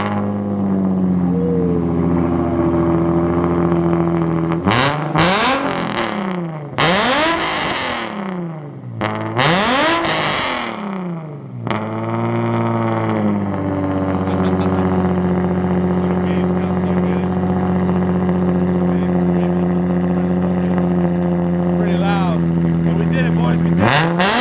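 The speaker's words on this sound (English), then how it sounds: "here's a startup from inside the car" A Nissan 350Z engine cranks and catches from inside the car, then revs in several sharp rising and falling bursts before settling into a loud, steady idle rumble.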